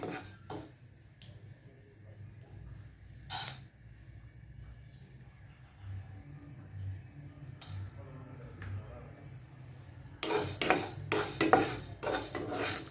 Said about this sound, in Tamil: அது வரைக்கும் நம்ம வெந்தயத்தை வதக்கி எடுத்துக்குவோம்